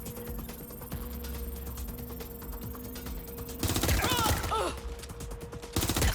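Gunfire in Watch Dogs Legion: scattered shots over steady background hum, then a louder cluster of rapid shots and clatter, with a final burst at the end.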